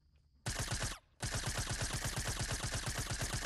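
Gunfire in Fortnite, the video game, comes as a loud, rapid, evenly spaced automatic burst that breaks off briefly and then resumes in a long steady stream.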